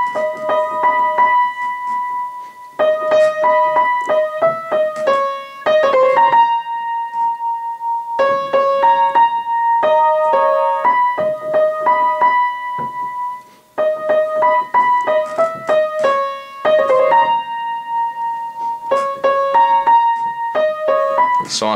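Piano playing the right-hand melody of a song in clear, repeating phrases of chords and single notes, with short pauses between phrases and no voice.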